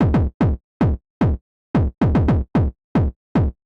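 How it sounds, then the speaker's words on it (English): Punchy, distorted electronic kick drums from a Vermona Perfourmer synthesizer thump in an uneven pattern of about a dozen hits, each with a gritty, downward-sweeping boom. "add some additional distortion, we get some sort of kick drum."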